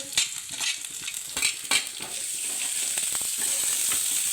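Onions added to very hot oil with already browned garlic, for a stuffed green chilli and potato dish, burst into a steady loud sizzle after a few close stirring scrapes, with no voices.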